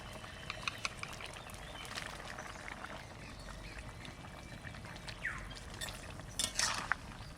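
In a home kitchen, fish goes into a pan with beans for a Bengali shingi fish curry. Quiet clinks and stirring scrapes lead to a short burst of louder rattling and splashing near the end.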